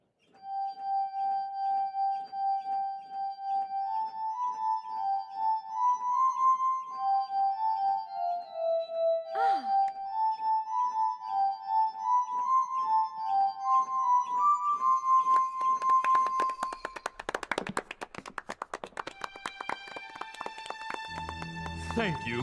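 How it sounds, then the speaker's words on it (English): Glass harmonica made of different-sized glass bowls turned by a crank, sounding sustained pure ringing tones that glide through a slow melody, later joined by brighter shimmering strokes and clinks as the tune builds. "This is an invention of Dr. Franklin's called the glass harmonica. See how the different sized glass bowls turn together as I rotate the crank?"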